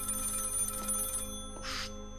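A telephone rings in the horror video game Maid of Sker, a steady electronic ring that stops partway, then a brief brighter burst follows.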